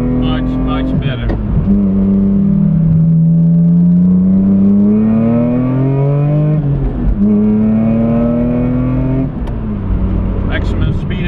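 A car engine pulls hard through the revs from low in third gear on the Nürburgring race track, pitch climbing steadily, dropping at a gear change, then climbing again, loud and close, with a voice talking over it.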